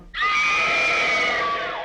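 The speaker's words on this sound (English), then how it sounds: "Think of the scream that is the climax of The Man Who Knew Too Much." A woman's piercing, sustained scream from the climax of Hitchcock's film The Man Who Knew Too Much, rising sharply and holding loud and steady for nearly two seconds.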